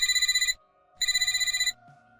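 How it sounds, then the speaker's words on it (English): A work phone rings in a quiet interior with two loud, electronic trilling bursts separated by a short pause, followed by a faint low tone. "Then my work phone rang."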